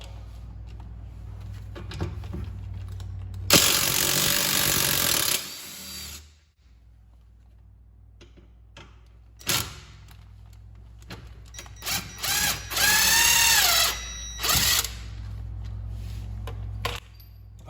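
A socket tool works a bolt loose on the rear suspension of a Fiat 500 during a bump stop and spring isolator install, with two bursts of sustained mechanical whirring amid quieter clicks and knocks nearby.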